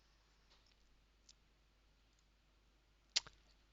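Single sharp computer mouse click on a software dashboard, clear and close against a quiet background, with fainter light clicks scattered before it.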